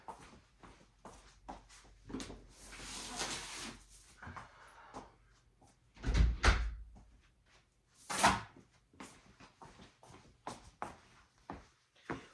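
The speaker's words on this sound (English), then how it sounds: "let me get up and close this door" Indoors, someone gets up and shuts a room door. Soft rustling and movement lead to a couple of solid thumps and clacks, then quieter shuffling afterward.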